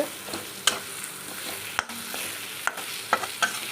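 Tomatoes sautéing in a pan for a spicy fish curry, a steady close sizzle with sharp spatula knocks and scrapes as they are stirred.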